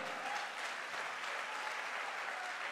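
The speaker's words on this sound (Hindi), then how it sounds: "तालियां ऐसी नहीं भाई," Steady applause from the audience at a direct-selling motivational event, an even wash of many hands clapping, fairly distant and unbroken for a few seconds.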